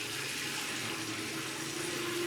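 Very hot water, steaming at about 60 °C, gushes steadily from the tap of a newly installed 35-gallon gas geyser, a continuous close hiss with no pauses.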